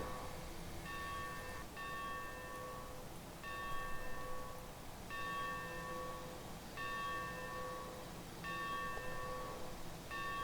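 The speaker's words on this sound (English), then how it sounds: "let's flick on our bell" The bell of an Empire State Express 4-4-0 locomotive in Train Simulator Classic clangs in a slow, even rhythm, about eight rope-swung strikes with ringing overtones over a steady rumbling background.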